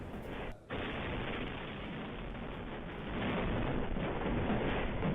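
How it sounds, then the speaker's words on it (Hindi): Security camera audio of a Russian drone striking a building catches a brief dropout, then a continuous, loud, distorted roar of blast noise that grows heavier toward the end. "जोरदार ब्लास्ट"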